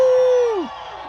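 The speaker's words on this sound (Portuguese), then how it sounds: "1, 2, 3 e dá um grito aí!" A crowd at a motorcycle festival in Aracaju lets out one loud, sustained collective shout close by, which holds briefly and then trails off into a murmur.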